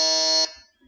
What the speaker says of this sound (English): so fast on the buzzer is Naki Tron